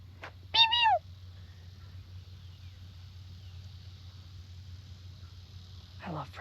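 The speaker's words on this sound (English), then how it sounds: "They make prairie dog noises. There it goes. They're like a little whistle chirp." A prairie dog gives a sharp whistling chirp near the start, and a second shorter call follows near the end, over a low steady hum outdoors.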